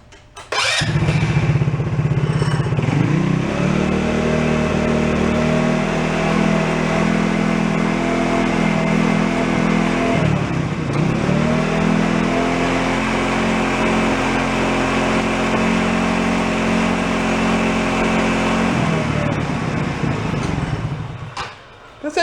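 A modified ATV engine, with its throttle on a direct cable instead of a governor, revs loudly and steadily up close. The pitch dips briefly partway through, then climbs back before the engine settles.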